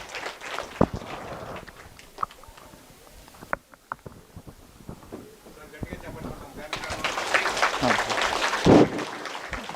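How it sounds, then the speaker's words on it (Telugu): Audience clapping to welcome a speaker onto a stage, with scattered claps at first and then a louder, fuller burst of applause toward the end, mixed with some voices. "సో వీరిని గట్టిగా చప్పట్లతో వేదిక మీదకి ఆహ్వానిద్దాము."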